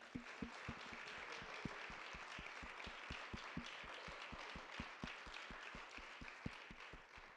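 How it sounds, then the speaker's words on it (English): Audience applause for Tim at the close of an indoor church-style gathering, a steady wash of many hands clapping with dense, even rhythm and a few sharper individual claps, continuing throughout without talk. "let's give one final round of applause to Tim"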